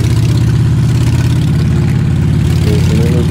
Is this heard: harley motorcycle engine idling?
yes